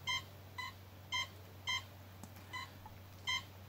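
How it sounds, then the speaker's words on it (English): A FlySky FS-ST8 radio transmitter emits six short electronic beeps at an even pace, about half a second apart, clear and close against a steady low hum. "So you can choose what beeps it does."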